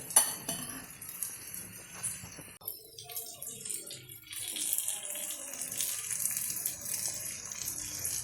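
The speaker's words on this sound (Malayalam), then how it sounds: "കുറച്ചുകൂടെ എണ്ണ ഒഴിക്കാം" Cooking oil is poured into a pan for pickle in a thin, trickling stream, with a few light clinks and a soft gushing wash, fairly quiet and close.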